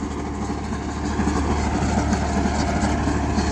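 A YUMZ-6 tractor diesel engine idles steadily, a close, loud, continuous low rumble with an even throb that rises slightly after the first second.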